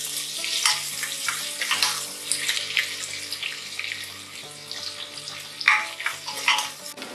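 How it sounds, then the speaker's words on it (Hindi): Onions sautéing in a pan for veg biryani, a soft steady sizzle with faint stirring clinks and scrapes, quiet and close, no talking. "अब डालेंगे ऑनियन, इसे ब्राउन होने तक सौटे करेंगे।"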